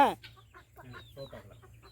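A hen held in a child's hands gives a quick series of short, close clucks and squawks. A brief voice may come in at the start.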